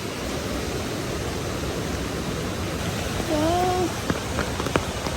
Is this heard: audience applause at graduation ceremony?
no